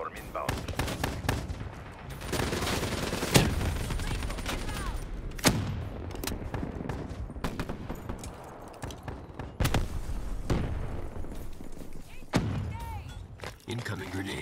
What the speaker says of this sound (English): Hellstorm inbound.